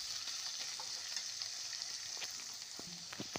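Tomatoes and green chillies frying for egg dal, with a steady bright sizzle of hot oil close by and a few soft clinks and stirring scrapes from the pan.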